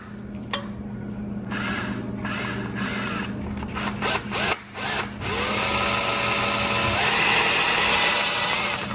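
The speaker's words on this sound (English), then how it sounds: "so we're gonna use a 3/16 drill bit. Drill these holes, try to get as level as we can." A power drill with a 3/16 drill bit bores holes during a Miata 1.8 motor swap, a loud steady whine that stops briefly and then resumes with a rising pitch.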